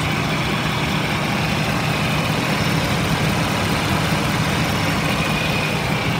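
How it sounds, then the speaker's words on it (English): A 2015 Ford F-550 Aero Lite 30-passenger bus engine idles steadily, a constant low diesel rumble with no revving and no talking. "motor sounds good."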